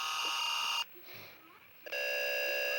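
Mock Emergency Alert System alert tone: a loud, steady two-tone electronic attention signal that cuts off for about a second, leaving a brief quiet gap with faint sound, then resumes at full strength.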